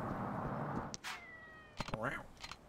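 A cat in the video game Yakuza 3 gives a short meow over low ambient game noise, followed by brief clicks and a soft bending vocal sound.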